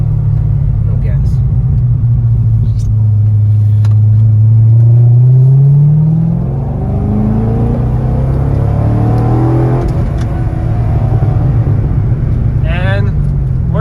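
A Corvette Z06 with an LS7 engine accelerates while driving, its loud, close exhaust rumble rising in pitch through the gears. A voice talks over the engine near the end.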